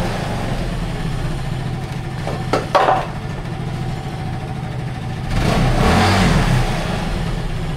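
A Yamaha Mio Sporty motorcycle engine revs up loudly for a few seconds after a stretch of steady idling and a brief clatter, close by.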